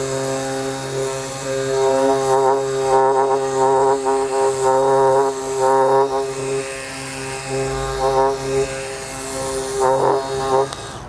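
A Milwaukee M12 Fuel compact random orbital sander runs steadily at its third speed setting, a close, continuous whirring buzz with a tonal whine that wavers slightly as pressure shifts, heard alone without talk.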